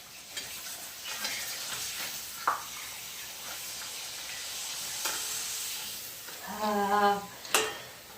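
Potato sabudana papad fry in hot oil, a close, steady sizzle with occasional utensil clicks and a brief voice-like murmur near the end.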